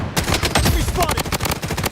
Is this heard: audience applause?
no